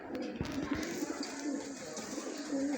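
Kasuri pigeons coo in low, repeated murmurs at a breeder's loft in Islamabad, with soft flutters and faint clicks scattered through a fairly quiet background.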